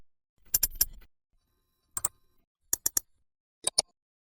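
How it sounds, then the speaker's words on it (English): AI-generated computer mouse clicks come in four quiet, crisp bursts of two or three clicks each, separated by brief silences. "Let's try mouse click."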